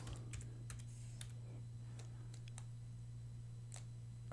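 Quiet clicks of typing on a computer keyboard, a scattered run of light keystrokes over a steady low electrical hum, no voices.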